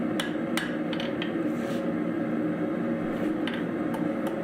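A hammer strikes metal keychain stock during practice forging, knocking the corners off to round it: sharp, irregular clangs ring out at close range over a steady background hum.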